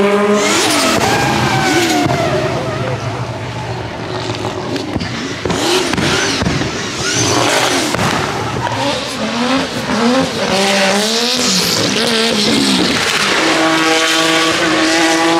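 Race car engines roar and rise in pitch as they accelerate uphill at full throttle at the 2023 Goodwood Festival of Speed hill climb, one after another, loud and close with shifting revs.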